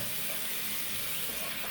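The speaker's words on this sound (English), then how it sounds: "I'm just using hot water now on my face." Hot water runs steadily from a tap during a DE razor wet shave, a continuous close hiss and splash with no pauses and no speech.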